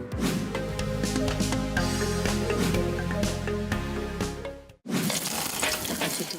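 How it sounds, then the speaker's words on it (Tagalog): Garlic and onion sauté in a hot pan, a dense, loud, close sizzle that runs continuously, cuts out briefly near the end, then resumes with the crackle of frying. "Una munang magigisa ng bawang at sibuyas."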